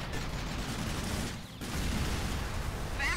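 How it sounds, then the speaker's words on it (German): Gunfire in the video game Fast and Furious Showdown comes as a dense, continuous roar of shots, dipping briefly midway before surging again, loud and steady. "Nur ein paar Schüsse."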